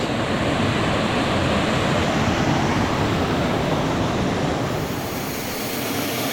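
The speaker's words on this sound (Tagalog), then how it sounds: "Ito pala yung mini falls." A small waterfall on a river at Barangay Banilad, Nasugbu, Batangas, giving a loud, steady broadband rush of falling water with no breaks, heard up close.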